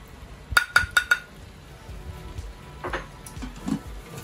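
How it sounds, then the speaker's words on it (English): A utensil taps the rim of the pot four times in quick succession, then scrapes softly while chili powder and dal masala are stirred into onions and peppers, faint with light sizzling underneath. "Incorporate them and stir them around."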